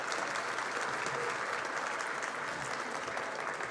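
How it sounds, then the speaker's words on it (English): An audience at an awards celebration applauds for the gold-level sponsors, with a full, continuous wash of clapping from a large crowd that stays loud and even throughout. "So big round of applause for our gold ones there"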